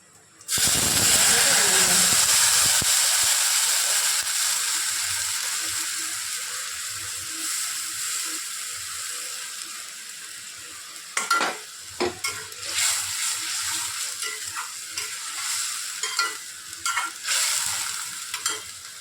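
Cumin and a paste of ginger, onion, garlic and chili dropped into hot oil, erupting in a loud close sizzle that slowly fades, followed by clattering stirs and scrapes of the spoon in the pan.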